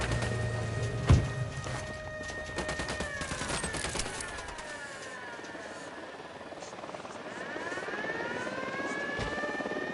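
Helicopter in the video game Ghost Recon Wildlands, rotor whine and swelling tonal drone mixed with a sharp gunshot-like crack, scattered impacts and game effects, fairly faint overall.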